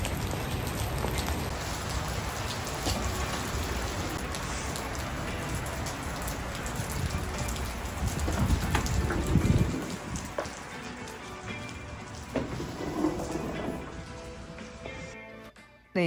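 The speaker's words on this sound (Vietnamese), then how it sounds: "Trời mưa quá trời mưa luôn." Heavy rain pours down outside a newly opened home goods shop, a dense, steady hiss of drops on surfaces that swells briefly midway, continuous and close, with no talk over it.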